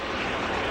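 Steady, loud turbine roar from a radio-controlled model jet with a P120 engine at an airshow, a continuous broadband rush with no pauses.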